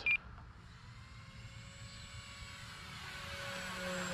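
A small E-flite Cirrus SR22T radio-controlled model airplane's engine whines past low and fast, its pitch shifting as it grows louder toward the end, with a short beep at the start.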